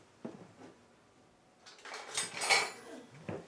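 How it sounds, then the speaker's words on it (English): A spoon scrapes and clinks inside a pot of chicken noodle soup in a Ninja cooking system, a couple of soft early taps and then a louder burst of metallic stirring, close and alone without talk. "Once all this is done, you can kind of stir it around."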